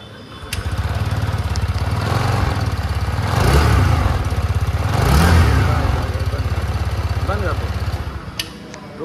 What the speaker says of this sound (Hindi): तो भाई चलो अब सुन लेते हैं इस स्कूटी की हम लोग एग्जॉस्ट नोट, देखते हैं इसका साउंड कैसा होने वाला है।